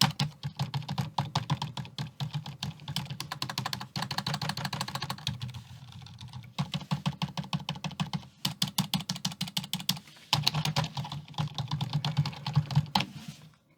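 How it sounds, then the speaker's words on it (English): Rapid, steady typing on a Logitech K400 Plus wireless keyboard with a flexing plastic deck, dense clattering keystrokes close to the mic with two brief pauses, no voices. "A lot of flex to the keyboard deck when I'm actually just typing away."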